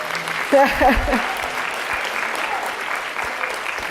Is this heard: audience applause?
yes